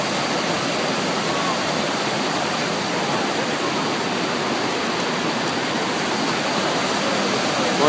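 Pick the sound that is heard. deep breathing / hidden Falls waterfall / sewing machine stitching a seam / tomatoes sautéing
hidden Falls waterfall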